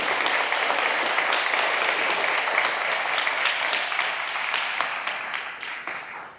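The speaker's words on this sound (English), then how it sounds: "Please give them a round of applause and thank you and God bless you." Audience applause at a memorial dedication ceremony, a dense steady clapping from a crowd that holds for several seconds and then thins and fades toward the end.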